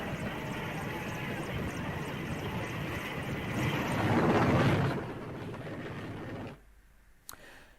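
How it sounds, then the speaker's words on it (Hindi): An Indian Air Force rescue helicopter from Nagpur, used to lift people out of the middle of a river, makes a loud, sustained engine and rotor roar that swells, then cuts away to quieter background. "नागपुर से आए वायुसेना के हेलीकॉप्टर ने 5 लोगों को नदी के बीच से निकालकर सुरक्षित जगह पर पहुंचाया।"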